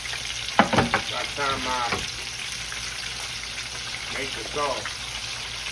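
Spicy buffalo shrimp deep-fry in hot oil with a steady, close crackling sizzle throughout, while a person talks over it.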